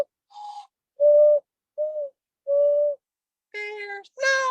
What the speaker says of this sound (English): the mourning dove